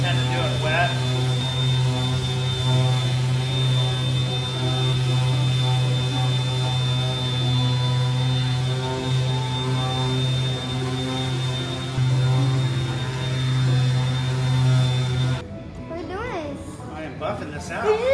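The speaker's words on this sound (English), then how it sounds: "Buffing this out." A polisher buffs a repaired Mazda MX-5 bumper, worked wet, in a home garage: a loud, steady, humming motor drone that holds for about fifteen seconds, then cuts off, leaving brief rustling handling noise.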